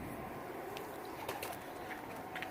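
A champion pigeon from Kasba Colony, Karachi, coos softly and steadily at close range over a noisy, hissy background, with a few faint sharper chirps or rustles mixed in.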